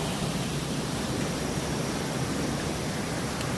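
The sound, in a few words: rushing stream water, white noise in woods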